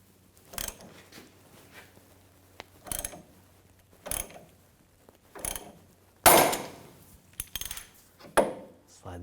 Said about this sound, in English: Now I'm going to use a puller and just separate the ball joint from the lower control arm